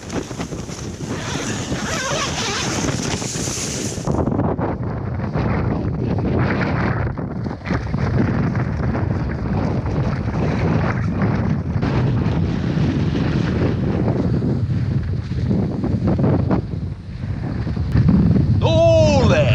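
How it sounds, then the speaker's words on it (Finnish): Strong wind roars steadily and buffets the microphone in heavy gusts outdoors in the Käsivarsi wilderness of Finnish Lapland, a dense broadband rush that hardly lets up. "Kova tuuli."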